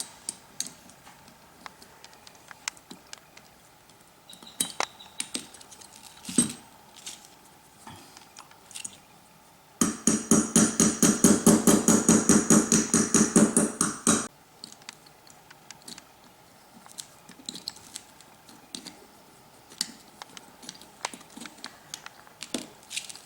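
Hammering to drive a stuck valve part out of a Bryant furnace: a rapid, tightly spaced run of sharp metallic strikes lasts about four seconds, with sparse clicks and light knocks from handling before and after.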